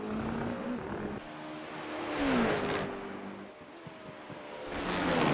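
Race cars in a sim racing game run the Le Mans circuit through the Porsche curves. Engines whine loudly and shift up and down, with occasional cars passing, and nobody speaks.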